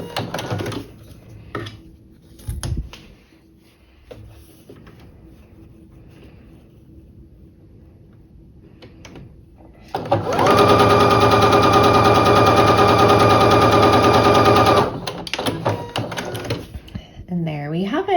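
A sewing machine stitches a 1/4 inch seam along a diagonal line on a quilt block, a loud steady mechanical whir for about five seconds. Before it come quieter handling noises and talking.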